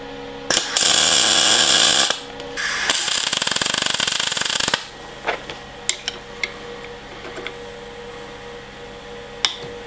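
Two loud, sustained bursts of a power tool unscrew heated steel fittings on a Ferguson tractor diesel injection pump in a workshop, followed by several sharp metallic clicks and taps.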